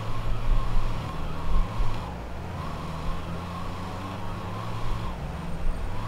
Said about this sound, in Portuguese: Caminhão de sorvete passando.